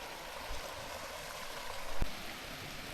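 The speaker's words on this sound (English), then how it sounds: "Perfection Lake spilling into Sprite Lake via the cutest little waterfall." A small waterfall spills between two mountain lakes, giving a steady, soft, broadband rush of falling water that continues throughout, with no voices.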